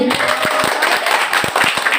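Audience clapping loudly at a lively indoor event, a dense wash of many hands with a few sharper claps standing out, steady for the whole span while voices murmur faintly underneath.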